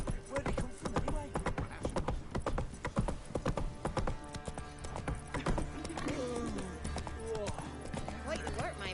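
Roach, Geralt's horse in The Witcher 3, trots with a brisk run of close, clear hoof clops and an occasional snort, set among game ambience and voices.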